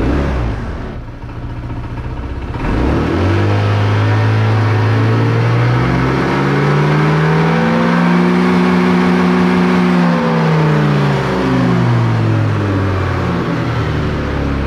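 A motorcycle on its center stand, its ECU just remapped, starts up and then revs hard, the engine pitch sweeping up and holding high before falling back, loud and close with no talking.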